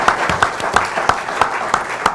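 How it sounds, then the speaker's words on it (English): A studio panel gives a round of applause during a Baltimore Ravens sports talk show, a short run of fairly steady claps with a brief voice underneath. "I think that deserves a round of applause"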